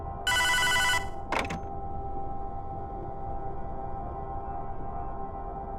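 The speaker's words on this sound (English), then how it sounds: "After the fight is over, the phone rings," In the Hotline Miami video game, a telephone bell rings in one loud, buzzing burst of under a second, then cuts off with a click, leaving a low steady hum.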